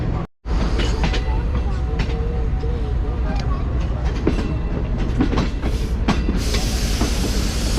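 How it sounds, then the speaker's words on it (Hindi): Green Line Express train pulling out of Rawalpindi main platform, a steady loud rumble with clattering wheel knocks and hiss, voices faintly mixed in. "तो रावलपिंडी के मेन प्लेटफॉर्म को ट्रेन ने छोड़ दिया है"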